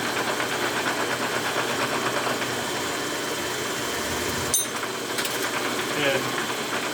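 A tampering tool machine runs at 660 RPM while cutting a piece of steel, giving a steady, continuous mechanical drone with a faint grinding edge and one brief clunk midway, close and even throughout.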